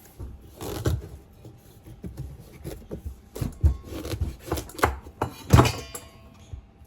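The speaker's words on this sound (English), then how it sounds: "So let me go ahead and cut it in half again." A knife cuts through a cushaw squash, making a run of close, uneven thunks and scraping rubs against the hard rind and the board, with one firmer chop near the end.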